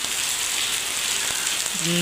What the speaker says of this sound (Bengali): বাইরে প্রচণ্ড বৃষ্টি শুরু হয়ে গেছে।